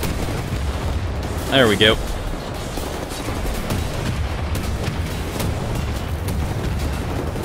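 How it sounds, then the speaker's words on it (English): Missile fire and explosions from Wolfenstein: The New Order rumble continuously, with repeated thumps and bursts blending into a dense combat din, while a voice speaks briefly over it. "I'm very inaccurate with these missiles"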